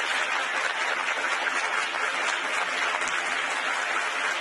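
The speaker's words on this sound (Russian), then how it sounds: "И они хлопают. Они продолжают хлопать." A large audience applauds steadily at the Davos forum, a dense, continuous wash of clapping that holds at an even level throughout, with no voices standing out.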